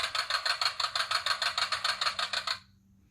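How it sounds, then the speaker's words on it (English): A big tractor engine hauling a trailer chugs in a fast, even, rhythmic pulse of about a dozen beats, fairly close and steady, before cutting off abruptly into quiet. "This big tractor is bringing a trailer full of supplies to the farm."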